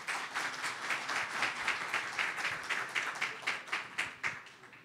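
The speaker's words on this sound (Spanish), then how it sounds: "Les pido un fuerte aplauso" Moderate clapping from a modest audience welcomes a speaker at a cybersecurity regulation talk, the individual claps audible in a loose rhythm, fairly close and alone, tapering slightly toward the end.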